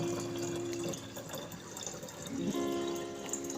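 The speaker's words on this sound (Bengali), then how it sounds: "একটা জল নেই, তাই জলগুলো ভরে নিচ্ছি।" Water runs from a tap into containers at home, a steady close gush with a hollow tone that drops briefly and then returns as the vessel fills.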